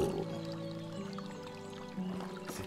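Steady rushing water from a waterfall in the medieval survival game Medieval Dynasty, a continuous broadband wash with tonal game music layered over it, holding evenly throughout.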